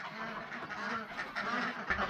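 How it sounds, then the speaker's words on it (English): Ducks quack and chatter in a group as they head into their coop for the night, a close, continuous run of overlapping calls. "Mumbles and her ducks are ready to come in."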